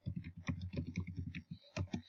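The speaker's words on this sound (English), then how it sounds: "I'm going to type that in." Quiet, close typing on a computer keyboard, a quick irregular run of key clicks with a brief pause before a final few taps, no talking.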